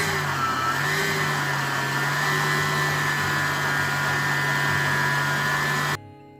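An electric mixer machine kneading bread dough made with dry yeast, giving a loud, steady motor whine with a constant hum that cuts off abruptly near the end.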